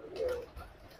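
A single short, close pigeon coo rising from a loft of fancy breeding pigeons, brief and alone without talk.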